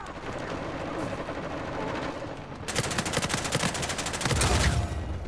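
Rapid automatic gunfire in the multiplayer match of Uncharted: The Lost Legacy, a dense stream of close, loud shots that thickens into a heavier fusillade midway and continues to the end.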